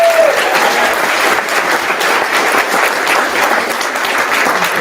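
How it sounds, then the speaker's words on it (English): An audience at an awards celebration applauds, a full, sustained round of clapping heard up close, loud and continuous with no voices over it. "So let's give them a round of applause."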